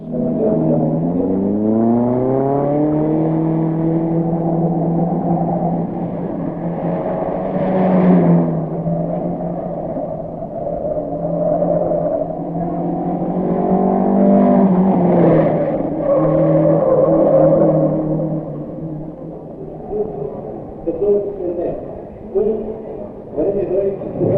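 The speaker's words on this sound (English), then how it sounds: "The sun creeps higher as the morning wears on, and the high-pitched roar of high-revving engines cuts the autumn stillness." High-revving rally car engines roar and climb in pitch on an autumn morning at the 1971 Rally de Portugal. The loud, sustained engine sound rises and falls as cars accelerate, with a narrator talking over it.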